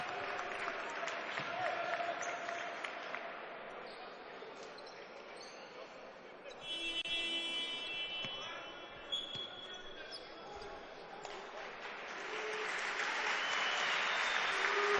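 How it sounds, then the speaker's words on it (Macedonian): Arena crowd at a Macedonian basketball final in Skopje gives scattered applause for a substituted player, heard faintly beneath continuous commentary, with a squeaky high tone and swelling cheers toward the end. "Малку аплаузи за Самарджиски"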